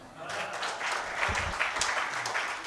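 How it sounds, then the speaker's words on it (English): Audience applause at a panel discussion on industry perspectives, a dense, steady wash of many hands clapping from a crowd in a hall, sustained for nearly three seconds at moderate loudness. "I knew I wouldn't be getting these claps if I would have said in English"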